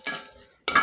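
Bay leaves drop into a hot pan of frying cumin seeds, giving a sharp sizzle burst that fades, then a second hissing burst close by.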